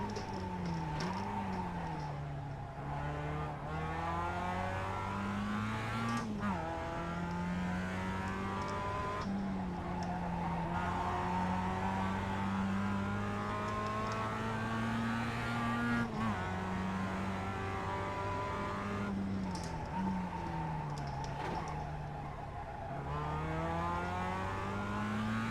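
A Mazda Roadster race car in the iRacing sim revs steadily through its gears, its engine note climbing and dropping in repeated shifts with brief throttle lifts, loud and continuous throughout with no talk.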